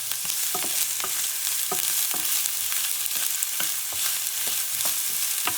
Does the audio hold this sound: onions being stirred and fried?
yes